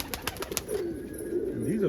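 Homing pigeons coo inside a loft, soft warbling rolls near at hand over a few quick clicks and scuffles, with a voice talking over them.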